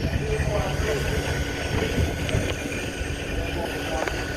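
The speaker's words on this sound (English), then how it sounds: "I am walking around the steam engine which is being operationed." Vintage steam engine in operation at the Great Dorset Steam Fair, threshing and separating, giving a steady mechanical rumble with faint clanks in a busy outdoor showground, loud and continuous throughout.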